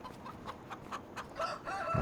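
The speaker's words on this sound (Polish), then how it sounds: "Tutaj mamy kury" Chickens clucking in a coop in Farming Simulator 25 on console, a few soft repeated clucks at moderate distance, faint and alone without talk.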